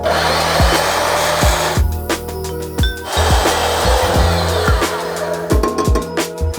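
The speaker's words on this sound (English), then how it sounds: "This is where I really love my bandsaw." Bandsaw cutting through a steel exhaust pipe section for a custom Honda exhaust, a loud steady whining buzz with a rhythmic rasping pulse from the blade, running continuously and alone.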